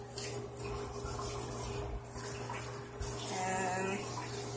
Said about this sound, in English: Scrubbing and cleaning this faucet sink.